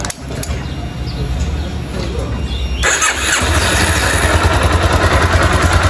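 A Yamaha Ténéré motorcycle engine, just repaired after an engine noise, turns over and catches, then settles into a loud, close, steady running rumble.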